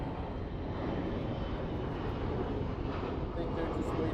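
Airliner engines at Los Angeles airport, a steady distant broadband roar with no distinct events, while a person talks faintly over it.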